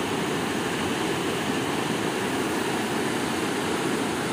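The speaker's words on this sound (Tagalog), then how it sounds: "Ito mahina pa kasi yung ulan," Steady broadband hiss of rain pouring down during Typhoon Crising in a barangay near a creek, continuous and even throughout with no voices.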